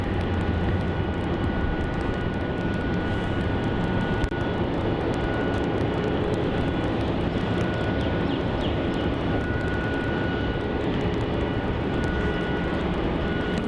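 A Qantas Boeing 737-800 departs Melbourne Airport for Brisbane, its engines giving a steady, loud broadband roar that holds evenly throughout with a faint tonal whine on top and no voices.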